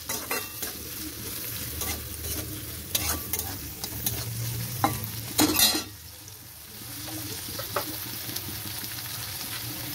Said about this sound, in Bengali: এবার একটা পেঁয়াজও কুচিয়ে আমি এটা ভেজে নেব।